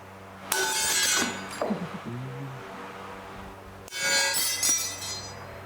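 Unheated bangjja brassware shatters into pieces, giving two sharp, bright crashes a few seconds apart, each followed by tinkling fragments settling.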